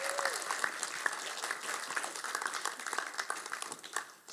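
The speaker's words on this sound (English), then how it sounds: "let's give them another round of applause as they go and sit down" A church congregation gives a round of applause at a Sunday morning service, a steady wash of many hands clapping at moderate volume with a faint voice briefly under it, tapering slightly toward the end.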